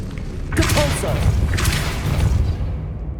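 A Capulso force spell cast in Hogwarts Legacy, heavy booming thuds and whooshing bursts in quick succession, loud and close over game ambience.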